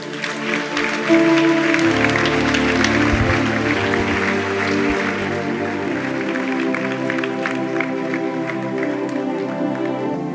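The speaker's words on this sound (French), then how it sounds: "Acclamez-nous très fort" A church congregation applauding loudly and steadily throughout, blended with sustained music.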